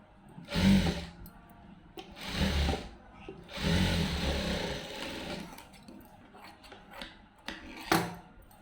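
A sewing machine stitches the lining of a blouse in three or four close, loud runs of whirring, each a second or two long, separated by short pauses with faint handling sounds.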